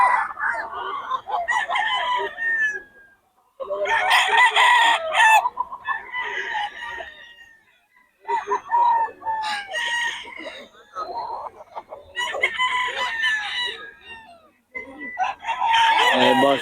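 Chickens in Bocaue crow and cluck in repeated loud bursts separated by short pauses, the calls close and layered over one another, with faint voices in the background.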